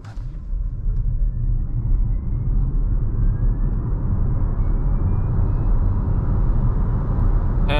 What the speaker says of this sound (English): I'm just going to floor it and show you the acceleration